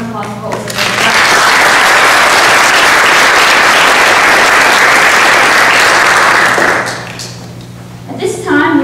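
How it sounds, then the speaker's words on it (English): An auditorium audience applauds panelists after a university panel discussion on the land-grant legacy, a loud sustained burst of clapping lasting about six seconds before fading, with a voice speaking briefly at the very end. "another warm round of applause?"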